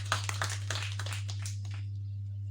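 A short burst of audience clapping at a gathering follows a lecture on ancient metallurgy and thins out within about two seconds, leaving only a steady low electrical hum.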